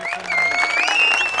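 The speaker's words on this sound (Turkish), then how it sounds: "Alkışlar Ramazan Külcü için." Applause breaks out for Ramazan Külcü at an outdoor village picnic, a steady patter of clapping from a small crowd with a voice carrying over it.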